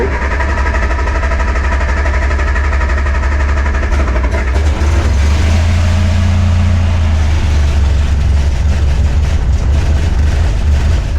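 An old barn-find Austin pickup's engine runs close and loud, a rough, rapid, uneven mechanical chugging that holds steady for the whole stretch with no one speaking over it.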